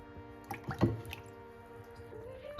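Sago pearls are stirred into a Rooh Afza drink, making soft wet squishes and drips close by, with a few distinct liquid plops set against a faint steady hum.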